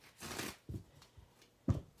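Tarot cards being shuffled by hand: a few brief, soft rustling and riffling bursts, quiet and close, with no talking.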